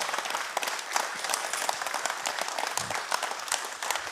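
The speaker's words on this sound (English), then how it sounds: "Round of applause." An audience applauds after a talk, with dense, even clapping that holds steady for the whole stretch.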